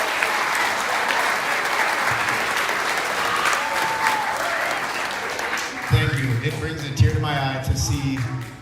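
Loud, dense applause from the audience of a school upper-grades musical rolls on steadily, and a voice talks over the clapping in its last few seconds.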